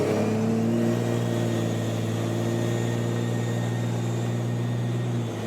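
A compound-turbocharged car engine drones steadily with a low, even hum and faint whine, cruising at constant speed under light throttle with no boost, heard from inside the vehicle, no voices.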